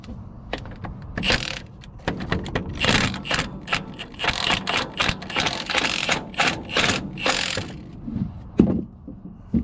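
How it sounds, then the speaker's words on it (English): Gear oil being hand-pumped into a dump truck: a busy run of rapid mechanical clicks, clanks and squeaky strokes, close and irregular, with no talking. "go ahead and pump some gear oil in this"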